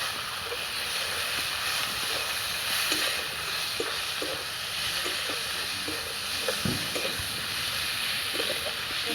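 Garlic and onion frying in hot oil, a continuous bright sizzle and hiss with small crackles and pops scattered through it, steady and close, with no talk.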